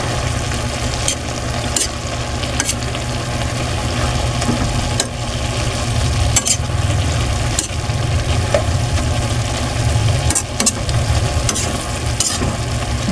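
Sautéed cabbage with sardines is stirred in a sizzling pan. A steady frying hiss runs throughout, with periodic scraping clicks of the utensil against the pan.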